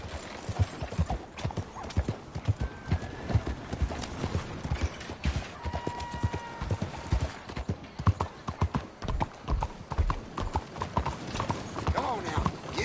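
Horse hooves clip-clop steadily on the ground in Red Dead Redemption 2, a brisk, even rhythm under the rider's occasional spoken words and faint ambient tones.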